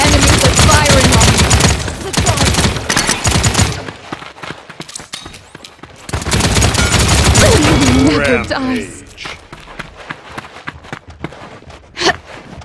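Rapid automatic gunfire in the online shooter game Paladins plays in two long, dense bursts separated by quieter stretches of scattered shots. A voice is heard between the bursts.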